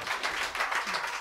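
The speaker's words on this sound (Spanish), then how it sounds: "un aplauso para él." Audience applause for an accordion player during a band introduction at a live folk concert in Cantabria, a brief burst of steady mid-level clapping with no one speaking over it.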